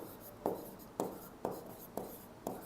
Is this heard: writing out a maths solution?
yes